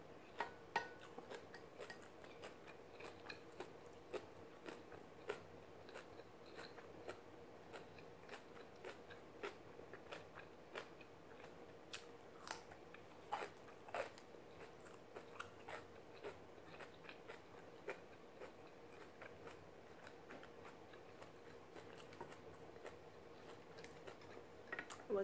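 Soft chewing of rice and kimchi eaten with chopsticks, quiet close crunches and small clicks scattered irregularly through a low hiss, with no talking.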